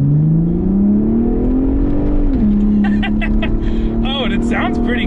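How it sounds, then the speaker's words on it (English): New Ford Raptor truck accelerating hard on a road in southern Ontario, its engine note rising loud and steady, then dipping as the exhaust baffle opens into a deeper, fuller roar, with voices and whoops over the top. "An exhaust baffle opens up."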